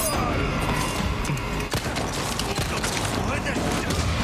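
Gunfire rings out in the video game Resident Evil 4 Remake as a dense run of loud shots and impacts, layered over game music and effects.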